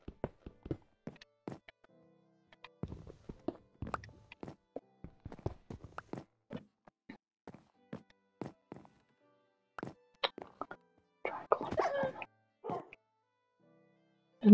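Minecraft dog whimpering and yipping in sparse, short bursts, mixed with quiet game clicks and footstep-like taps across a mostly silent stretch.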